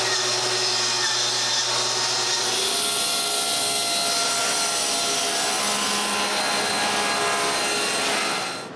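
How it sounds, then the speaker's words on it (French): A saw cuts the first plywood panel for the top frame of a closed bookcase, guided along a straight edge, a steady loud broadband whine running about eight seconds before cutting off, with no voices. "je peux couper le premier panneau du cadre du haut"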